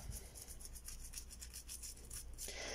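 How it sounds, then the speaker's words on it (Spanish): A toothbrush scrubs soap paste onto the stems of a rose plant in quick, rhythmic bristly strokes. The scrubbing is close and quiet, with no voices. "lo siguiente que vamos a hacer es pasar ese cepillo por la planta"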